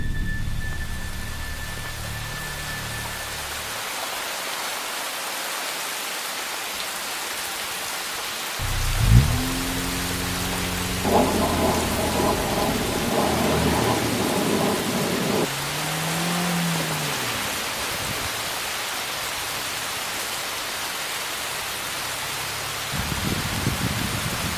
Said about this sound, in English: I didn't think it could rain in Arizona.